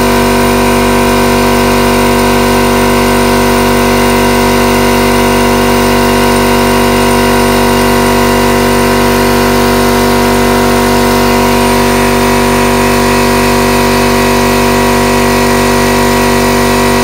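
A new SGS 50-litre 3hp V-twin air compressor runs continuously up close, a loud, steady mechanical drone with strong humming tones that stays constant throughout without pause or talk.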